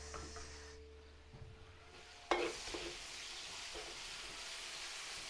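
Garlic and onion sautéing in a pan for a Filipino dish, giving a soft, steady sizzle and stirring noise, with a sharp clatter as ingredients drop in partway through, then a continued low frying hiss.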